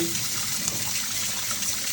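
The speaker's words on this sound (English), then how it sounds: "we're now gonna run the cold water" Cold tap water gushes steadily over pasta and shrimp in a pot for a Jamaican-style shrimp pasta, a continuous close splashing rush with no pause and no talking.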